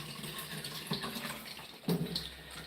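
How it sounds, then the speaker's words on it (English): Tap water running slowly and steadily from a faucet onto a dirty Miele vacuum cleaner filter being rinsed, a soft continuous splashing with no voices. "Want that water on slowly to begin with so that it doesn't splash too much dirt"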